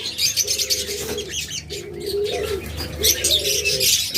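Caged pet birds at a sale, such as budgerigars and lovebirds, call close by, with repeated cooing phrases mixed with bright chirps and a brief flutter of wings.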